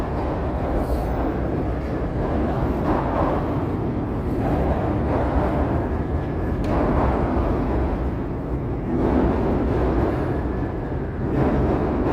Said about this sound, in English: There's hear the train going across Wells Street there.